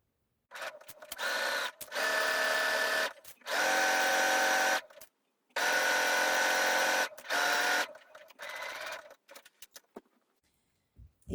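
A sewing machine runs a narrow 0.5 zigzag stitch at length 3 on stretchy viscose jersey for a T-shirt, in several loud, steady whirring runs with short pauses between, then trailing off.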